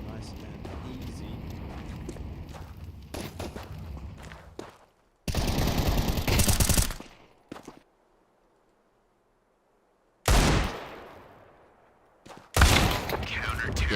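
Rifle and pistol fire in a Counter-Strike match crackles in short dense bursts, loud and sharp, broken by near-silent gaps, with commentators talking over the action.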